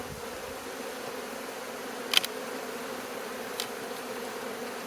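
Honey bees buzz around an open hive while frames are packed for winter, a steady close hum of many insects with a couple of brief sharp knocks or clicks over it.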